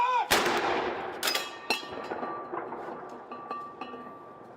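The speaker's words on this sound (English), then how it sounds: "gunfire, a mark of respect" A loud gun salute blast rings out and echoes away, followed by further shots a second or so apart, each trailing off with a long rolling echo.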